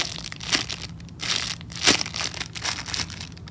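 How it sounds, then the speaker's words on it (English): Plastic packaging crinkles and crunches close up in irregular bursts, soft and rustling, with no voices. "sorry guys if you don't like crinkly noises"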